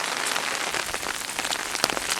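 Heavy rain from Hurricane Joaquin falls steadily on an outdoor surface, a dense close patter with scattered sharper drop hits throughout.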